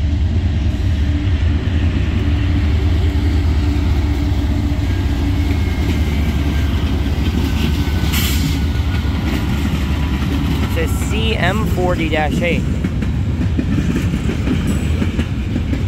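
A CSX freight train led by a Dash 8 locomotive rolls past close by in a steady, continuous rumble of wheels and railcars, with a few short spoken words near the end.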